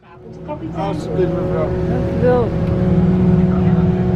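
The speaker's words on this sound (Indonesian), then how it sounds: "In order to get out of the water, the 2 jets push the bus against the slope." An amphibious tour bus pushes through the water on its two jet drives in Rotterdam, a steady loud engine and water rush throughout, with tonal whine and some background voices over it.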